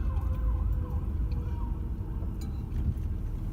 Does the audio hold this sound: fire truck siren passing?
yes